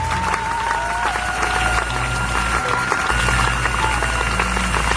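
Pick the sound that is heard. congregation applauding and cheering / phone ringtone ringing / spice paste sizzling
congregation applauding and cheering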